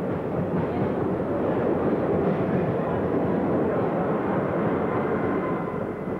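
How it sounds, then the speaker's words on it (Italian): Train running from Rio de Janeiro to Duque de Caxias in 1980, a steady loud rumble and roar filling the whole stretch with no break or talk. "Questo treno che fa da Rio a Duque de Caxias"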